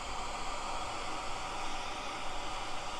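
The iPhone ocean background sound gives a steady, faint wash of broadband surf-like noise with gentle swells in level, heard alone.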